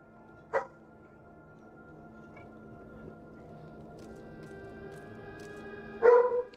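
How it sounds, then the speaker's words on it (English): Dogs barking in the background of a live game stream, a sharp bark near the start and a louder burst of barks at the end, faint and somewhat distant over a quiet background hum. "The dogs are going crazy."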